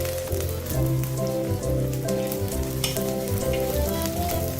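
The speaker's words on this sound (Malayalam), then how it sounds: "ഇത്രയും കൂടെ ഞാൻ ഈ വെളിച്ചെണ്ണയ്ക്കകത്ത് ഇട്ട് കൊടുക്കുകയാണ്. ഇത് കുറച്ച് കറിവേപ്പിലയും കൂടെ നമുക്ക് ഇട്ട് കൊടുക്കാം." Garlic and curry leaves fry in hot coconut oil with a dense, continuous sizzle and crackle, close and steady throughout, with no talking.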